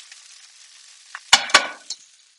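Broccolini in a hot pan gets a brief stir, with a faint sizzle and then two sharp scraping swishes close by, ending in a short clink before the sound dies away.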